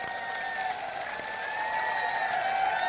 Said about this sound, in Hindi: इसके खिलाफ देखिए ताली बज रही है